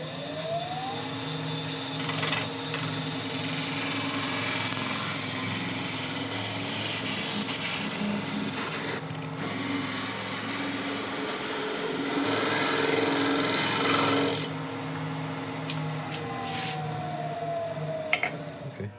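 Wood lathe spinning at about 1300 RPM while a tool cuts across the top of a rotten elm bowl filled with epoxy resin, giving a continuous close whirring hum with scraping and rasping cuts that swell and ease.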